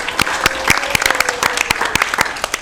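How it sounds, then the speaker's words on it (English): A library board meeting audience gives a short burst of applause, individual claps sharp and close, with a voice briefly audible underneath. "So we want to give them a round of applause."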